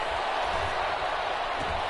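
Stadium crowd noise in a PS4 football video game after an incomplete third-down pass toward the end zone; a steady, broad roar with no distinct cheers or claps.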